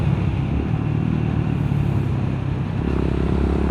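A Honda GB350S single-cylinder motorcycle thumps steadily under load while climbing uphill at full throttle, loud and close with wind rush, the engine note dropping lower near the end as a gear changes.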